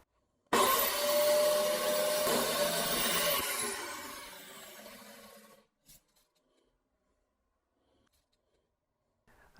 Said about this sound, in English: Now I'll put my safety gear on and we'll start sanding.